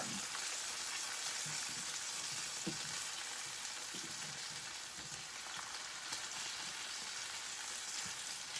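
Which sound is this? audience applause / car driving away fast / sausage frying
sausage frying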